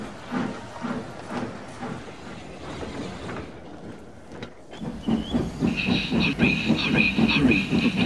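A steam train chuffs rhythmically with hissing steam, briefly quieting before a louder section of chuffing with a high whistle-like tone.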